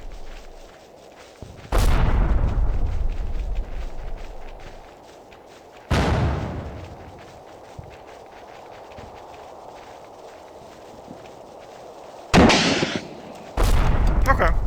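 Mortar fire and explosions in the WWII strategy game Combat Mission Final Blitzkrieg: four heavy booming impacts land several seconds apart, each followed by a long rumbling tail, over a steady crackle of distant small-arms fire.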